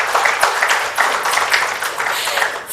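Audience at a building certification felicitation program breaks into loud applause, a crowd of hands clapping in a dense, uneven patter with a few sharper individual claps standing out, no voices over it.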